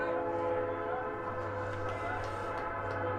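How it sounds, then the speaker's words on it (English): The 953 train passing through Springfield along Highway 14 during a Class C state baseball tournament, its horn holding a loud, sustained chord over the rumble of the cars throughout. "you can hear the train"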